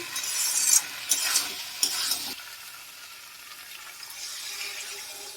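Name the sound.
stirring spice masala in a pan for jackfruit prawn curry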